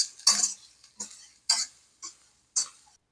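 A spoon stirs butter into a pot with five distinct scraping, clinking strokes at an uneven rhythm, close and clear, with no talking.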